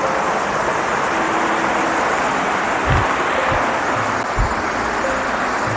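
Bogowonto River water rushing as a continuous broadband wash, steady and fairly loud, with a few low thumps and bumps under the flow.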